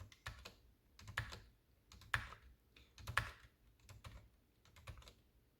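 Keys are pressed on a Ducky One 2 Mini mechanical keyboard in an irregular series of crisp, close clicks, some louder than others, with no talking over them.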